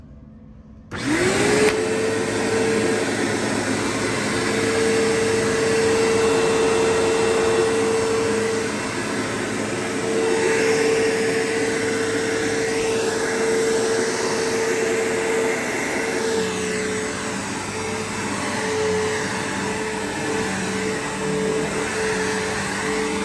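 A 2004 Bissell Powerforce 3522-1 upright vacuum cleaner, set for thick carpet, switches on after a brief quiet moment and then runs with a loud, steady motor whine and hum for the rest of the stretch.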